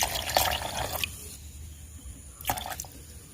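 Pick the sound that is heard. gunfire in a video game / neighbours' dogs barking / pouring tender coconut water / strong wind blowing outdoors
pouring tender coconut water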